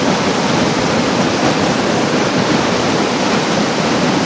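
Clear water pours steadily over a waterfall in natural surroundings, a loud, continuous broadband rush that stays constant throughout, with no voices.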